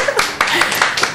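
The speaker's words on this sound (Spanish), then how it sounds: "un aplauso" Several people clap in a quick, even rhythm, fairly close and loud, on a regional Aragón TV show during a cake segment with Pedrola neighbours; voices murmur faintly underneath.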